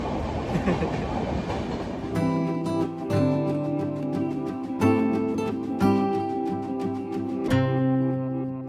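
Wheels clack in a regular rhythm as a train rolls past close by at a crowded Mumbai railway platform, preceded by a brief burst of crowd noise.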